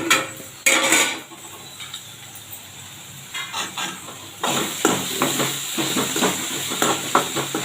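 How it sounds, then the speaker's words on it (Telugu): Onions cooking in a pan for egg curry are stirred with a utensil, giving clinks and scrapes against the pan over a steady sizzle and hiss, with busier scraping in the second half. "ఇప్పుడు ఒకసారి కలిపి చూద్దాం ఎలా ఉందో"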